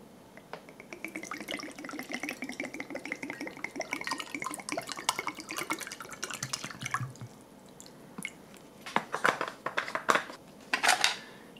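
A ration drink mix is poured and stirred, with liquid trickling and dripping followed by a run of quiet clinks and scrapes of a spoon, close and fairly soft, with no voices.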